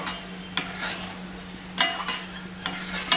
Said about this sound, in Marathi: छान असं आपल्याला आता मिक्स करून घ्यायचं आहे